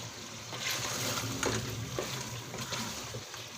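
Potato chunks and mutton fry together in a pot for a Lahori aloo gosht, giving a steady, close hiss and sizzle with a few soft stirring scrapes and no talk.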